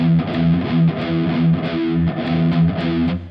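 Distorted electric guitar played with scooped alternate picking, the spoon effect, giving a loud, muddy, repeating pattern of notes with a smeared attack, heard alone and up close.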